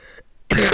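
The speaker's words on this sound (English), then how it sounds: "Cough." A girl gives a single short, sharp cough, close and fairly loud, after a brief quiet pause.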